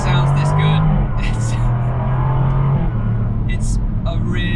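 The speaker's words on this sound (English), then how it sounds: "when the engine sounds this good" A 2020 Jaguar F-Type with a 567bhp engine runs loud and close, its steady drone stepping down in pitch between gears over a few seconds, while someone talks over it.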